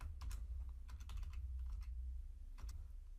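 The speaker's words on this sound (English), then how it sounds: "So I'll go with single quotes, and then I'll just type out "Hello World"." Close keystrokes on a computer keyboard while typing a line of Python code, tapping out in short quick bursts with brief pauses between them.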